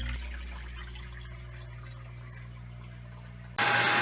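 Steady water flow from a 3,000-gallon-per-day reverse osmosis soft water system, a continuous close hiss and rush with a low hum, jumping abruptly louder and brighter near the end.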